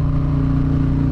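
A Harley-Davidson police motorcycle idles close by, its big engine giving a loud, steady, low rumbling throb with a rhythmic pulse.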